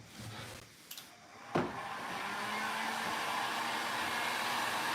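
A hair dryer runs steadily after a brief knock, its broad airy whoosh holding at even loudness while drying a freshly upcycled mirror.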